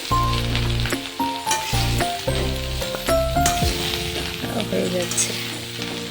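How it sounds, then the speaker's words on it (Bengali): Chopped bottle gourd sizzling loudly with tempering spices in hot oil, stirred continuously with scraping motions. Steady close frying over background music, with a brief spoken phrase. "ভালো করে নাড়বো, লাউটাকে মিশিয়ে দিব ফোড়নের সাথে"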